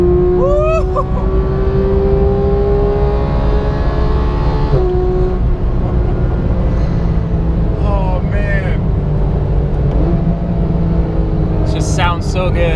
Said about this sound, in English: Hear that motor behind you.